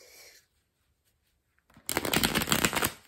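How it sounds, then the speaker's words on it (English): Tarot cards are shuffled near at hand after a quiet pause, a dense burst of riffling, flapping card noise filling the final second or so, loud and alone. "That was a terrible shuffle."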